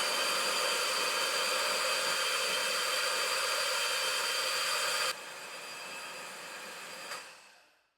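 An ANBULL electric chain winch hoist runs with a steady, loud whirring hum. The level drops partway through, then the motor winds down to silence.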